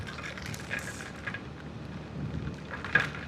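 Heavy rain pours steadily during an evening ride up Sungay Road toward Tagaytay, a dense, even wash with a few faint crackles and no voices.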